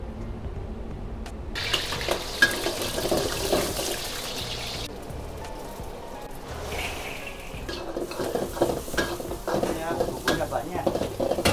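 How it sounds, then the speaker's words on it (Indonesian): Baby squid stir-fried in a pan, with the spatula scraping and stirring through a sizzling, clattering mix, and bursts of frying hiss rising and falling over about eleven seconds. "Nah, semuanya langsung kita tumis sekarang jadi satu."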